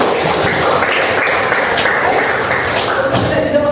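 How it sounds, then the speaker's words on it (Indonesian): A classroom of students claps in applause, a dense, steady patter of many hands filling the room at moderate loudness, with some voices mixed in. "Tepuk tangan untuk semuanya."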